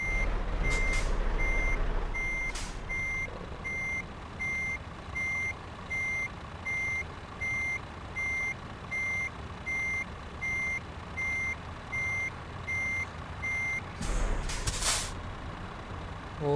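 Truck reversing beeps in Euro Truck Simulator 2 while a trailer is backed into place: a steady, evenly spaced electronic beep repeating over a low engine rumble, with loud air-brake hisses near the start and end.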